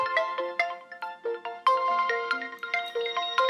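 A mobile phone rings with a bright electronic melody of quick stepped tones, loud and close, playing alone for several seconds.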